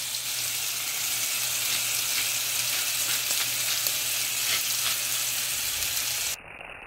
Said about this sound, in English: I don't want to overcrowd the pan because I am searing.